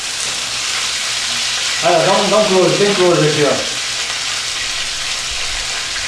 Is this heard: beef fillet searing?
yes